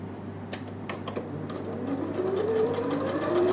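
A sewing machine stitches fabric along a seam line in patchwork piecing, a whirring motor hum that builds slightly louder over a few seconds, with a few small clicks near the start and no talking.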